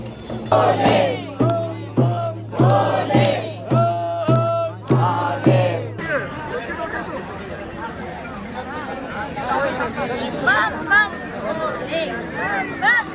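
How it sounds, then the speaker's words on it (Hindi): Dense crowd of pilgrims at the Mamleshwar Jyotirlinga temple in Omkareshwar, a steady babble of many voices; rhythmic group chanting with a droning tone opens before merging into loud, continuous crowd hubbub. "और यहाँ पे भीड़ है।"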